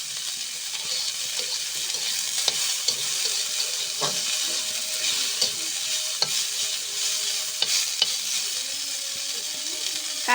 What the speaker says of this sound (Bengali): এটাও খানিকক্ষণ ভাজা ভাজা করে নেব।